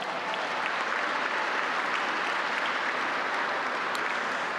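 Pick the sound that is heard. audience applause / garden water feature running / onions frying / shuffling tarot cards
audience applause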